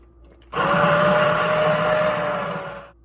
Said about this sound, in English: I wonder what'll happen if we blend this chili